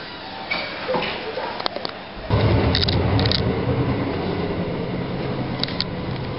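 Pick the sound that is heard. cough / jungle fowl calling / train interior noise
train interior noise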